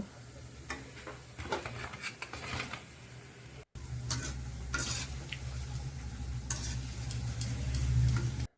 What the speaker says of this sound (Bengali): এইভাবে সব পিঠেগুলো এখন আমি ভেজে নেব।